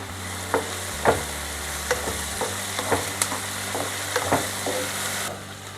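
Tomatoes, onions and turmeric fry in a pan with a constant low sizzle, broken by several sharp scrapes and taps of a spoon stirring the mixture, close and without speech.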